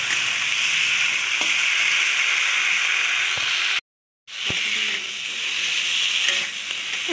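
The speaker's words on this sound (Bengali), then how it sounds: "এই যে মশলা দিয়ে কষিয়ে নিচ্ছে" Potato and green plantain frying with spices in a pan, a loud continuous sizzle with occasional spatula knocks, broken by a brief silent cut near the middle, no talking.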